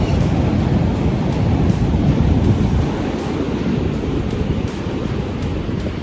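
Ocean waves and surf rolling on a beach near the Samoa drag strip, with heavy wind buffeting the microphone, a continuous loud rumbling wash with no voices.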